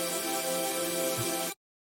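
Supersaw synth tone, a saw wave thickened with stacked unison voices, holding one bright, buzzy, dense chord for about a second and a half before cutting off abruptly, with no voices over it.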